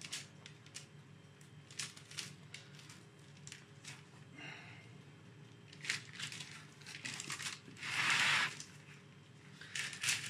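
Faint parchment paper crinkling and rustling on a baking tray in short, scattered bursts, with one longer crackle near the end amid quiet handling noises.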